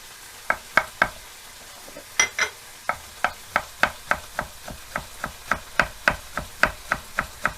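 Meat sizzling and being stirred in a wide pot over high heat, with a steady run of sharp scraping knocks from a utensil against the pan, close and fairly loud.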